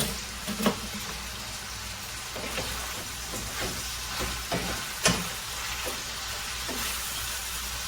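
Kielbasa sizzling steadily in a frying pan, with occasional scrapes and knocks of a utensil as it is stirred, continuous and close.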